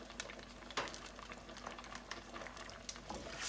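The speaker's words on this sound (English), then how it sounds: "Let that just kind of all simmer for just a little bit" Clam sauce with white wine, basil and salt simmers in a pan over lowered heat, making a faint, steady bubbling with occasional small pops.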